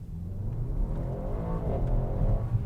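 A 2019 Mercedes-AMG GT63 S sedan with a 600 hp engine accelerating hard, heard from inside the cabin as a steady, rising engine roar and whir that builds without any talking.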